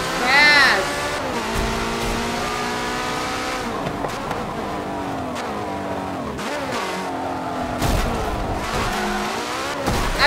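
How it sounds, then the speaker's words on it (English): Porsche race car in a video game, its engine revving up and down through gear changes alongside repeated tire squeals and skids, loud and close, with a voice talking over it at times. "Oh, this Porsche is fast."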